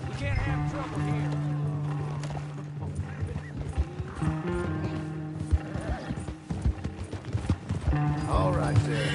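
Horse hooves clip-clop steadily in Red Dead Redemption 2, close and loud with an occasional whinny, while voices talk over the riding.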